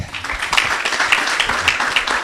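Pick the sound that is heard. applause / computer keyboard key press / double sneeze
applause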